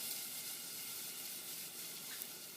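Finely diced onions sizzling in a hot pan, a steady, bright frying hiss that holds evenly throughout, close and unbroken with no voices.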